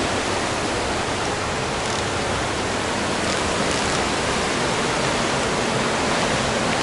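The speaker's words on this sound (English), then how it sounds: "you got rushing river" A rushing river next to a natural hot spring in rural Kyrgyzstan, a steady, loud broadband roar of fast water that holds constant throughout, with no voices over it.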